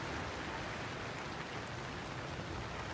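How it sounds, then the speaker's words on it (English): Heavy rain pours down during a storm, a dense, steady hiss of drops with no breaks, moderately quiet and evenly sustained. "report during the rain pour."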